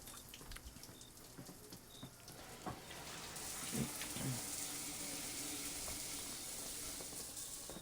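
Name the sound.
water running from a faucet for bathing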